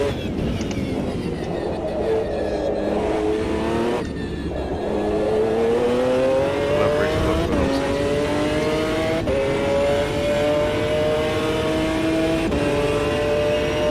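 A GT1 race car engine howls around the Nordschleife in Automobilista 2, loud and sustained, its pitch climbing through the gears with brief dips at each shift and no talk over it.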